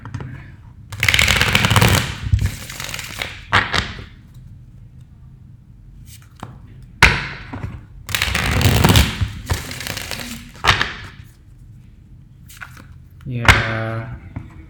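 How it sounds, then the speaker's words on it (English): Tarot cards being shuffled quickly by hand, several bursts of riffling and slapping card noise, close and crisp, separated by short pauses. "I'll do a quick shuffle."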